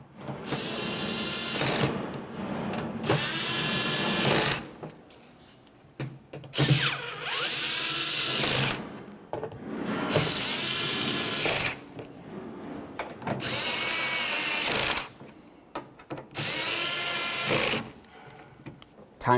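A ratchet snugs up the bolts on a 2001-2005 Ford Explorer Sport Trac tailgate during a handle replacement, heard as loud bursts of rapid whirring clicks a couple of seconds long, broken by short pauses, close to the mic.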